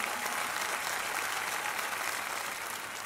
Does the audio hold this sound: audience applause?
yes